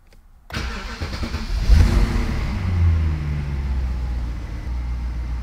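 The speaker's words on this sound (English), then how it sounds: "now, let's start the car" Salvaged BMW 545i E60 that had not run in a long time cranks briefly after a short silence, catches, and settles into a loud, close idle with a slight flutter, no talking.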